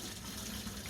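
Steady running water pours into a freshwater aquarium sump, a continuous soft splashing and gurgling with no pauses and no voices.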